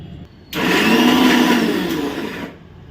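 An electric mixer grinder jar grinds golden chillies in a loud, dense whirring burst of about two seconds that starts and stops abruptly, with quiet room noise before and after.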